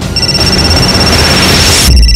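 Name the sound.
telephone ringing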